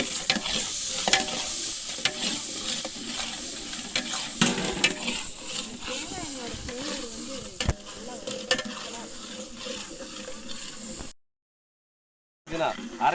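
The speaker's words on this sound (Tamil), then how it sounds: "நல்லா கிண்டுங்க, நல்லா கிண்டுங்க." Biryani masala with green chilies and tomatoes being stirred and fried in a pan, a steady close sizzle with repeated scraping and clattering of a spoon, then a brief silence.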